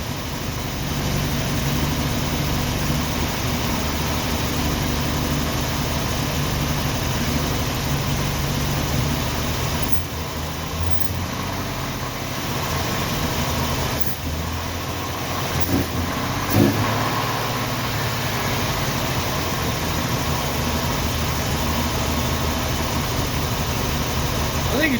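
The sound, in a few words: 1990 Jeep Wrangler engine idling after revving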